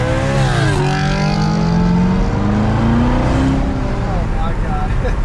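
A manual Chevrolet Corvette C7 Z06 accelerates hard in first gear at night, its engine note rising steeply and loudly while people talk excitedly in the cabin.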